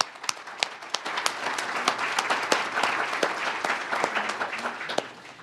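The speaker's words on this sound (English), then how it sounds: "So let's applaud." Steady applause from an audience at a fair housing breakfast, many hands clapping in a dense, continuous patter that holds for several seconds, with no speech over it.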